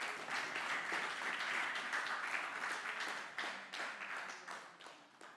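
A church congregation applauds in a sustained, fairly distant wave of clapping that thins into separate claps near the end.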